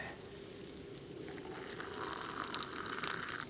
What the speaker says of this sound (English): that's what I wanted, hot water